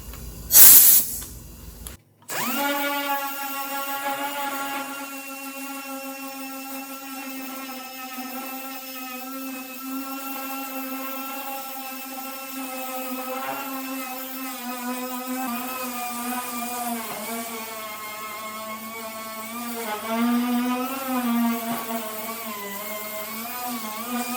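A Model A coupe deck lid is sanded down to bare metal, a loud, steady, tonal whine of a power sander after a brief start-up burst, sustained close-up with slight pitch wavers as pressure shifts.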